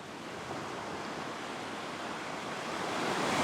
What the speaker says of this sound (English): Got a little bit of a surge coming up here